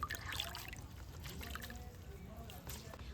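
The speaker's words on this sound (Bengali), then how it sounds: "এই পাত্রের মধ্যে একটু জল নিয়েছি" Water is poured into a small bowl with a soft, continuous trickling splash, quiet and close, running steadily under faint talking.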